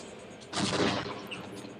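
Soldiers in the video game Half-Life fire machine guns in a short burst of gunfire, a roughly half-second blast of rapid shots followed by fading echo, with no talk.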